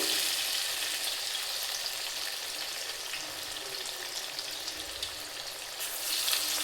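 Chana dal masala vada batter fries in hot oil over medium flame with a steady, close hissing sizzle and fine crackling throughout, no voices.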